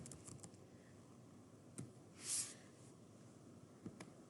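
A few scattered keystrokes on a computer keyboard as a search term is typed, quiet clicks over a hushed room with one brighter tap midway.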